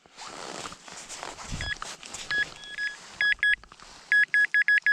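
A metal detector in a forest in Warmia, Poland, gives a series of sharp, repeated electronic beeps, stuttering then steady, over outdoor rustling and handling noise.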